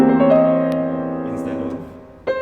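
Piano chord left ringing under a held sustain pedal, so extra notes blur into the new harmony; one rich, smeared chord decays steadily over about two seconds, ending in a soft new attack, with no talking.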